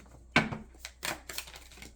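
Tarot cards being shuffled and pulled from a deck, giving a sharp snap followed by several soft, brief flicks and rustles close by, with no talking.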